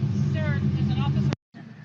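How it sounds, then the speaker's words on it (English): A loud car engine rumbles steadily and close, with a thick low drone under people talking, then cuts off abruptly before resuming more quietly. "All because my car is loud."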